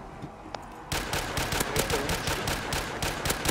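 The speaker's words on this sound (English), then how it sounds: "I can't hear over this gun." Loud, rapid automatic gunfire in Black Ops 3 Zombies starts abruptly and keeps going as a dense stream of close, sharp shots.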